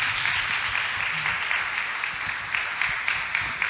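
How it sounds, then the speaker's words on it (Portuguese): A church congregation at a Sunday service applauds together, a dense, continuous wash of clapping that carries steadily for a few seconds with slight swells. "Aplauda o Senhor Jesus, amados."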